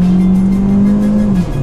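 A 2015 Volkswagen Golf Mk7 accelerating hard, its engine a loud steady drone with a sustained pitch that dips near the end, heard from inside or close by.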